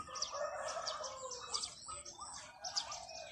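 Wild birds calling outdoors, a quick mix of bright chirps and rising whistles with a rooster-like quality, fairly close and continuous for a few seconds.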